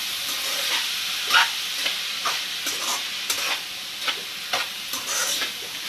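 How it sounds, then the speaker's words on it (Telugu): Turmeric stirred into ivy gourd (dondakaya) frying in a pan: a steady close sizzle broken by repeated scraping strokes of a spoon against the pan, several sharp clinks standing out. "ఈ రెండు కూడా బాగా కలిసేట్టు కలుపుకోవాలి"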